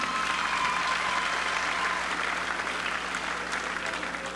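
An awards-show audience applauds a singer. The clapping is dense, sustained and fairly loud, holding steady throughout with no talk over it.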